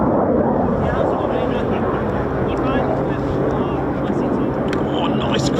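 A Swiss F-18 Hornet jet climbs away after retracting its air brake during an RAF Leeming exercise, a loud, steady broadband engine roar filling the whole stretch with wind buffeting the microphone.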